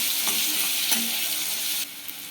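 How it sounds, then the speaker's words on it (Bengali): Onions drop into hot leftover bhetki fish-frying oil and crackle in a loud, dense, steady sizzle, with a couple of faint scrapes, easing slightly toward the end. "এবার আমি সেই মাছ ভাজার তেলের মধ্যেই পেঁয়াজ দিয়ে দেব এবার পেঁয়াজগুলো দিয়ে আমি একটু লালচে লালচে করে ভেজে নেবো"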